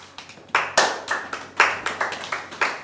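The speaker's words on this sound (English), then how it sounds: "Everybody clap" A small group claps in loose, uneven bursts, each sharp slap decaying quickly, close and clear with no talking.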